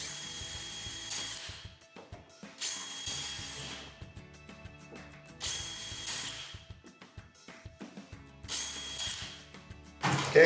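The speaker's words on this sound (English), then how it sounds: "we're going to drill the 4 rivets out from the bottom" A power drill bores out rivets on a rusted Coleman lift arm in four loud, close bursts of about a second each, with quieter gaps and a final clatter.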